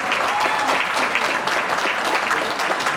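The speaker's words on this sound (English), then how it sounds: "I hope you could applaud them." A roomful of people at a Kwanzaa community gathering applaud volunteers with dense, steady clapping that stays loud and continuous throughout.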